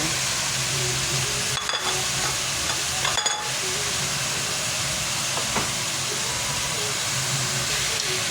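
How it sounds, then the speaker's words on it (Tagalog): Pork giniling with carrots and potatoes is stirred in a frying pan, a steady close sizzle with a few sharp scrapes of the spoon against the pan. "Haluin."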